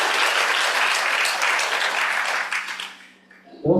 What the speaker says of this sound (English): let's just give everyone a round of applause